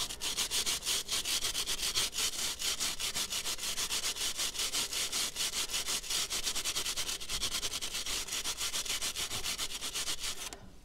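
IPONE chain brush scrubbing a motorcycle chain: fast, continuous bristly rubbing strokes in a steady rhythm, close and loud throughout, with no speech.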